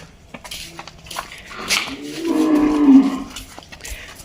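A buffalo at a farm lets out one long, loud moo that swells through the middle of the clip, with faint clinks and rustles around it and no talk.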